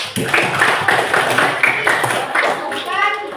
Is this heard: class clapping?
yes